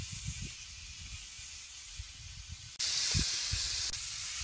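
Cauliflower and tomato fry in oil in a pan, a steady sizzling hiss that jumps louder and brighter partway through, with faint soft knocks underneath.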